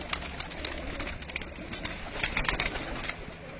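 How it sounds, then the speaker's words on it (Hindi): Pigeons, racing birds kept by a fancier in Sheikhupura, coo and flutter in the background, soft repeated calls over a steady low hum, with occasional brief bright chirps. "ये सारे कबूतर हैं जी"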